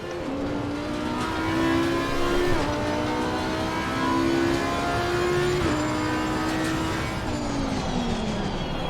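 Race car engine in a sim racing game, loud and steady, revving with several sharp drops and rises in pitch as it shifts down to second and accelerates again, no talk.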